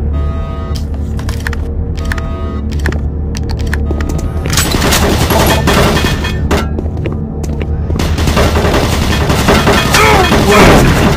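Automated turret guns fire in Doom 3 as a dense, loud barrage of repeated shots and thuds. It grows heavier in the second half, with constant mechanical din underneath.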